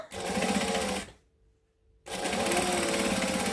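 A sewing machine stitches close to the folded edge of fabric, a loud, steady run of motor whir that stops for about a second and then resumes.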